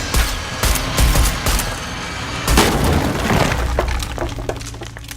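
Gunshots in Shadow of the Tomb Raider hit objects that shatter and break apart, giving a series of loud sharp cracks and crashing, splintering debris over several seconds, with no talking.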